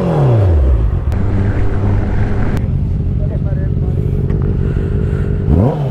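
An inline-four superbike revs close by, its pitch sweeping up and down at the start and again at the end, loud throughout with voices under the engine.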